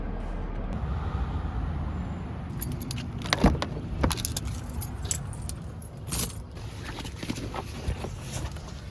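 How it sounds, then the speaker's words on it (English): A car is switched off and its keys jangle, a clear metallic rattling from about two and a half seconds onward over a low rumble inside the car. The jingles come in bursts and no one speaks. "turn the car off"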